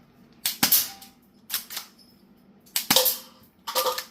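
Sharp shots from a cheap budget air gun during an informal accuracy test, heard as four clustered bursts of pops, some doubled, spaced about a second apart, loud and close with no talking over them.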